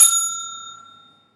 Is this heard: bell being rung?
yes